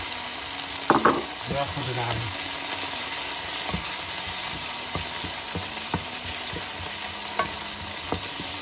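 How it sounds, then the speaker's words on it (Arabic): Garlic and coriander frying in a pan, a steady close sizzle with stirring scrapes and clatters throughout, brief utensil knocks near the start, and a voice speaking briefly over it. "نقليه مع الكزبره"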